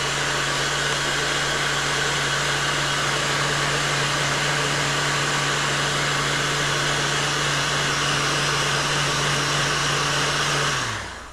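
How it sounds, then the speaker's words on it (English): A heat gun or hair dryer warms a plastic climate control part from a 1998-2007 Chevrolet Silverado, blowing a loud, steady whirring hiss for about eleven seconds before cutting off at the end. "So then we can take our heat gun or hairdryer and heat."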